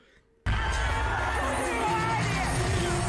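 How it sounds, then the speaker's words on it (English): Loud cheering and screaming erupt suddenly from a packed arena crowd at a concert in Oakland, then hold as a dense, sustained roar. "they're cheering her on again"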